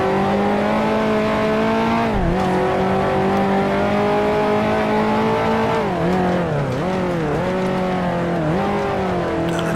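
A 1955 Formula One car in Grand Prix Legends, its loud engine droning at high revs, then dropping pitch in several quick downshift blips, racing steadily and close throughout.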